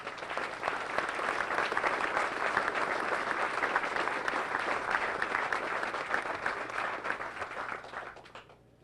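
Steady applause from a sizable crowd at a US Marine Corps change of command ceremony, dense clapping sustained for several seconds before tapering off at the end.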